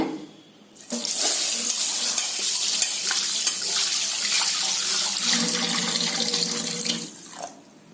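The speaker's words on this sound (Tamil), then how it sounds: "இதை கழுவி தண்ணி ஊத்தி ஊற வச்சிருங்க" Running tap water splashes steadily into a bowl or sink for several seconds, with basmati rice grains being swished around, then the flow stops.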